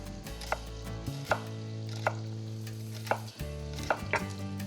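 A knife cuts broccoli into even pieces for polenta with broccoli and bacon, giving soft, steady taps roughly every half second over a low constant background hum.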